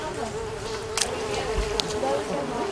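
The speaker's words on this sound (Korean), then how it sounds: "숲은 모기떼의 천국이었습니다." A swarm of mosquitoes in a humid forest fills the air with a steady, continuous insect buzz that holds close and even throughout, with a couple of brief sharper high ticks.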